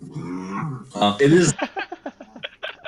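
A voice imitates creaking, quaking tree bark during a tabletop fantasy role-play session: a run of short, rhythmic vocal creaks and groans after people talk.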